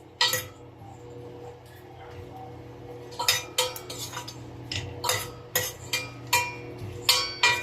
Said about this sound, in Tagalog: Sinasangag ko lang po siya sa mainit, sa low fire, para hindi po siya kaagad masunog.